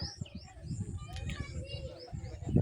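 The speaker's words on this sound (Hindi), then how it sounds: "ये कबूतर चल रहे हैं।" Pigeons cooing and fluttering on a rooftop, soft low coos and scattered chirps close by, mixed with someone talking and faint children's voices in the background.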